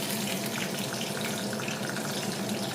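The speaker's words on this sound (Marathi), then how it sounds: "मोहरी चांगली तडतडेल." Mustard seeds crackle in hot oil in a wok, a dense, steady, close sizzling hiss that holds evenly throughout with no voices.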